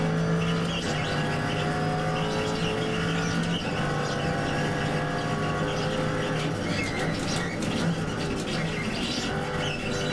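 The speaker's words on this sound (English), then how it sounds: "Short shifting a little bit from 3rd to 4th." A race car engine in the iRacing sim at Sebring drones continuously, rising through the revs and shifting from third to fourth gear, loud and close with a faint whine and tire noise under it.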